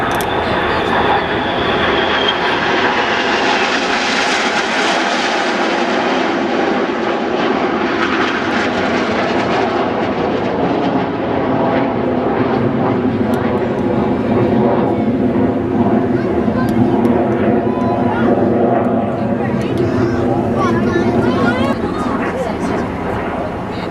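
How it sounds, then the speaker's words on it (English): A lone red jet at the Waddington Air Show in 2013 flies past, a continuous loud roaring engine whoosh that swells and shifts in pitch over the whole stretch, with a commentator's voice running beneath it. "If we look right, we'll see one lone jet, that is red 9."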